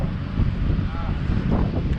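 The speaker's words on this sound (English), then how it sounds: "Oh man, it's windy out here today" Gusty wind buffets the microphone outdoors in a backyard garden, a steady low roar and rumble filling the whole stretch with no talking over it.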